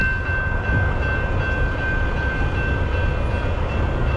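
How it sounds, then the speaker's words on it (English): A slow passenger train rolls past a crossing on Old Orchard Street in Old Orchard Beach, Maine, with a steady loud rumble and a sustained high warning tone running throughout. "Oh, it looks like it might be a passenger train."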